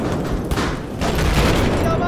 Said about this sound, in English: They're throwing a lot of grenades.